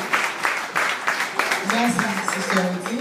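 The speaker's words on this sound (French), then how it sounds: "Applaudissez encore plus" Audience clapping at a church appreciation ceremony honoring a pastor and leaders, a steady patter of hands in a room, with a voice speaking over it toward the end.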